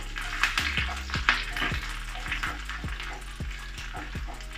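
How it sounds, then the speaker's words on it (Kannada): Curry leaves and garlic frying in hot oil for pongal, a close crackling sizzle broken by several clattering stirs of a utensil against the pan, steady and moderately loud. "ಕರಿಬೇವು, ಬೆಳ್ಳುಳ್ಳಿನೂ ಹಾಕ್ಕೊತಾ ಇದ್ದೀನಿ. ಚೆನ್ನಾಗಿ ಫ್ರೈ ಮಾಡ್ಕೊಳ್ಳಿ."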